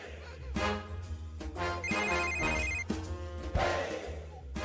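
A mobile phone rings with a repeating electronic ringtone melody, loud and close, playing continuously in an indoor domestic scene with no speech over it.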